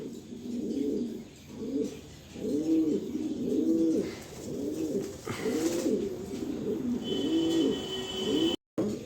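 Black checker pigeons coo softly and repeatedly in a steady rhythmic pattern, close by, over a faint background hiss.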